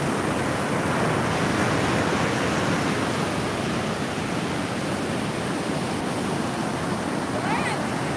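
Waves wash onto a clean beach in a continuous, loud, even roar of surf with no distinct breaks.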